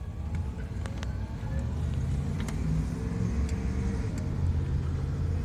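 A car speeding past at about 160 miles an hour: loud, steady road rumble and engine roar throughout, with no clear rise and fall of a pass-by.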